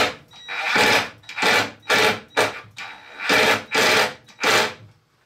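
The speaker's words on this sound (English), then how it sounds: "I will be drilling holes into our base here" A power drill bores holes into the wooden base of a garden lighthouse, giving about six loud, close bursts of whirring that each last roughly half a second, separated by short pauses.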